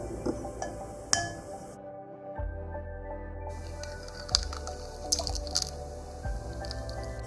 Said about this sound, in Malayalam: കസ്റ്റേർഡ് തയ്യാറാക്കുന്നതിനായിട്ട് നമുക്കൊരു ബൗളിലേക്ക് 2 മുട്ട ചേർക്കാം.